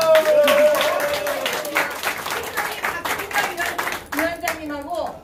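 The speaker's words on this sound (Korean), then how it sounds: "박수 대박입니다" Residents at an apartment community meeting in Suwon Gwanggyo clap in scattered bursts, with a voice over a loudspeaker talking through the applause.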